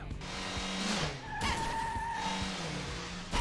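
Tires squeal as a car skids during a run-over attack in Persona 5 Royal, a loud close screech sliding in pitch with engine noise underneath, alone without talk.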